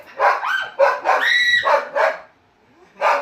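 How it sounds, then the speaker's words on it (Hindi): Three dogs fighting at home, with harsh snarling barks and yelps in rapid close bursts, a brief pause, then another sharp bark. "अभी बस अभी तीनों लड़ गए कुत्ते"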